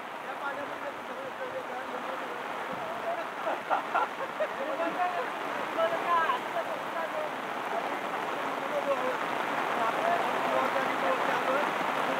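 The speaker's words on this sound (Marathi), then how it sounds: "तर बघा परत मुसळधार पाऊस." Heavy monsoon downpour in a village by a flooded main road, a dense continuous roar of rain hitting surfaces and water that swells slightly toward the end, with people talking beneath it.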